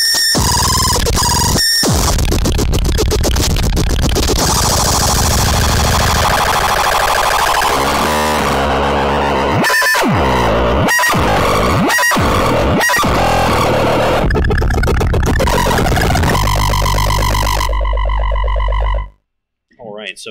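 Harsh experimental noise run through a DOD FX86B distortion pedal: loud, chaotic squealing and buzzing textures with abrupt cuts and stutters, ending in sudden silence, with no talk.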